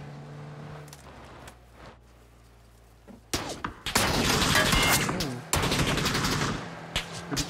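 Gunfire in the PUBG battle royale video game, a dense burst of loud rapid shots after a quieter stretch, then a second sustained volley with brief gaps.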